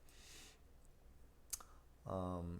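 Computer mouse clicks, a couple of faint, sharp clicks in a quiet room, followed by a person speaking.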